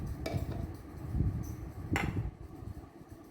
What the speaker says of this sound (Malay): Kita gaul lah hingga rata ya.